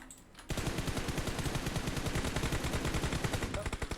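Rapid automatic gunfire in PUBG Mobile, a loud continuous burst of shots after a brief quiet start, with a faint voice behind it.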